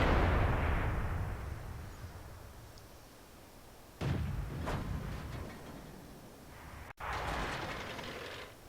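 A tank cannon fires in a video game that pits tanks against a KV-2, giving a heavy booming shot with a rumbling tail, then a second sharp blast a few seconds later, with no one speaking.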